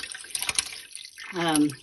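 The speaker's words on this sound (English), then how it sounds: "we're going to go ahead and just pour this in and get it draining" Whey from homemade cottage cheese pours and drains, heard as a close, splashy trickle of liquid with brief drips that swells into a fuller, bubbling pour near the end.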